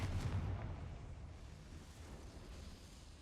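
A Confringo spell explosion in the video game Hogwarts Legacy: a deep, booming blast at the start that rolls off into a low, rumbling tail.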